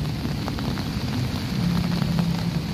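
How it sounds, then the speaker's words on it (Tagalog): Steady rain falls by the Pasig River ferry station along the riverside esplanade: a dense, even hiss that continues without a break and with no voices. "So ayan po, kahit po umuulan"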